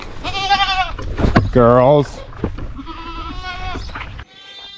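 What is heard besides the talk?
goats bleating on a farm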